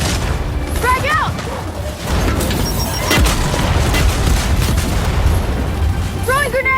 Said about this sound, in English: Throwing grenade! Frag out! Frag out!